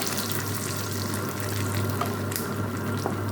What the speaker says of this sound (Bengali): এখন হচ্ছে একটু জিরে, শুকনো মরিচ আর তেজপাতা আর কি ফোড়ন দিয়ে দেবো